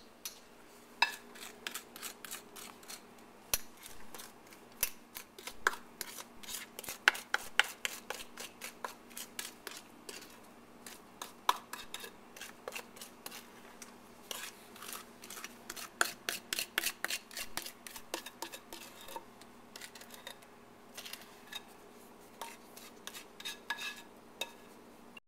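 Thick honey cake batter scraped into a baking pan: a long run of quiet, irregular scraping and tapping strokes, some in quick clusters and others spaced out, close by with no talk.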